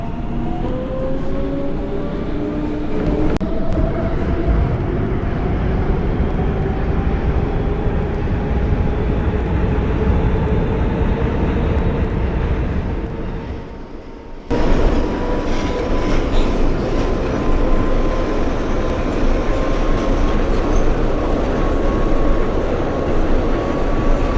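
A New York City Subway R142A train on the 6 line heads toward Brooklyn Bridge–City Hall in the OpenBVE simulator, with a steady loud rolling rumble and rising motor whine. A brief dip comes midway before the running noise resumes.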